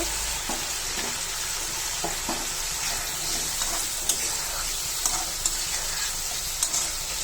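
Potatoes fry in a pan with spiced boal fish curry, giving a close, steady sizzle broken by light stirring clicks and taps, with no one speaking.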